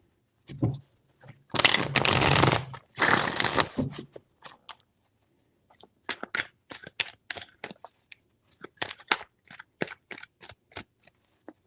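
Tarot cards shuffled in two dense riffling bursts close to the mic, followed by a scatter of quick, crisp card taps and flicks as the deck is handled and laid out; no talk.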